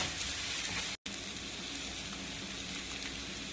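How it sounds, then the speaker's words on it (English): Shrimp hit a hot pan for a Vietnamese shrimp and meatball udon soup and sizzle loudly and steadily. The frying hiss is broken only by one brief silent gap near the start, and no one talks. "Then we're going to add in the shrimp."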